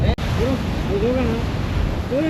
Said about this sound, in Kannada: ಅಲೆಗಳು ನೋಡಿದ್ರು ಯಾವ ರೀತಿ ಬರ್ತಾ ಇದೆ, ಹೊಡಿತಾ ಇದೆ.